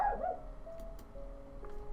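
A cartoon dog barks four times in a row, the barks fairly soft and set against a steady tonal background with no talking.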